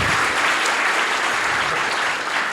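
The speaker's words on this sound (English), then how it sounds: "Let's give Timothy a big round of applause" A festival audience gives a founder a round of applause after a startup pitch, dense and loud clapping filling the whole moment without pause.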